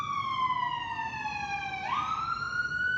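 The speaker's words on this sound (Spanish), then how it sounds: "Se van a escuchar las sirenas. Así, a todo lo que da, todas las sirenas." A wailing siren sweeps steadily downward in pitch, then abruptly jumps up and starts a new rising tone, loud and continuous against low traffic rumble.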